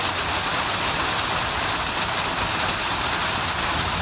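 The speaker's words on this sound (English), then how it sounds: "raindrops are falling on my shed" Steady, dense hiss of rain pattering on a shed roof, a constant broadband wash without pauses or voices.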